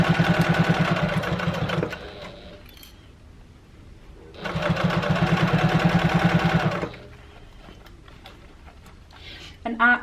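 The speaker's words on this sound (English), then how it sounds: "I'm just going to do a few little back stitches over where the gusset goes over this slip pocket" A sewing machine runs two steady bursts of rapid back stitching over the gusset and slip pocket of an Ethel Tote bag, with a quieter pause between them and a brief clatter at the end.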